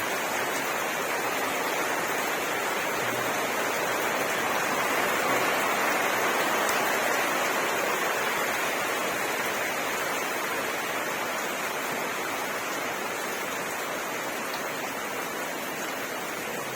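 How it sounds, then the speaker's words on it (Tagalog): Steady, heavy typhoon rain hisses continuously, a dense wash of drops pouring down without a pause, loud and close, with no voices. "Lakas pa rin ang ulan."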